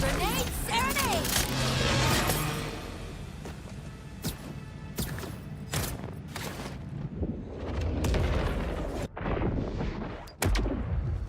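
Grenade explosions in Borderlands 4 go off in a busy firefight, several sharp booms and cracks landing among other game noise, with a voice talking over part of it.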